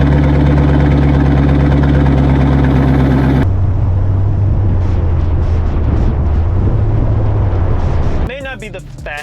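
A C5 Corvette with an LS1 V8 rumbles at idle with a deep, steady low-frequency drone, shifting in tone partway through before a brief burst of other sound at the end.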